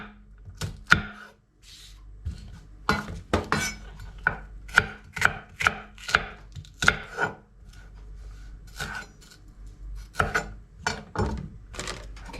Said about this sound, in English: so I'm gonna get the onions ready